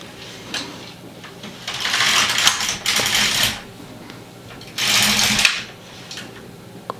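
An LK150 knitting machine knits two rows as its carriage makes two sweeping passes, each a loud, rattling whir lasting about two seconds, with quieter pauses between them.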